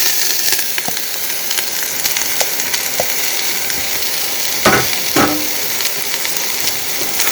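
Chopped brown onions sizzle in hot oil in a Dutch oven on an induction cooktop, a steady close frying hiss broken by a few clicks and a couple of louder scraping stirs.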